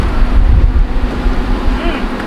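Strong wind buffets the microphone at a desert camp in Morocco, producing a loud, continuous low rumble and roar.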